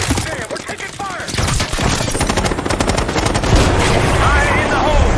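Rapid automatic gunfire erupts in a Black Ops 6 video game firefight, dense bursts of shots that grow louder and continuous, with shouting voices mixed in.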